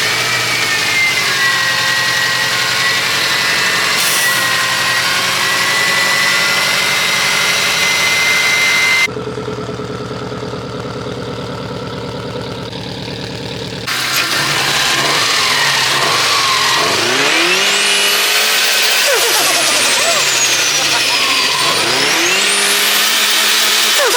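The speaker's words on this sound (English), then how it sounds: "Can we get a startup on this car?" A tuned Subaru race car engine runs loud and close, a steady rough idle broken by a brief drop in tone, then sharp rising and falling revs with whining sweeps as the throttle is blipped.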